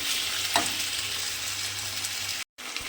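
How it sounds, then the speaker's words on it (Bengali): Potatoes and taro pieces fry in oil in a pan during home Bengali cooking, giving a steady, close sizzling hiss that runs continuously with a short drop-out near the end. "আলু আর কচুটা আমি দেখুন এখানে একটু ভাজা ভাজা করে নিয়েছি।"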